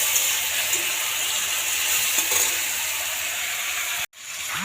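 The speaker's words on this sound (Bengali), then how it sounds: "একদিকে বসিয়েছি ফুলকপি আলুটা ভেজে নিচ্ছি" Cauliflower and potato pieces fry in hot oil in a pan, giving a steady close hiss and sizzle that cuts off abruptly near the end, then resumes briefly.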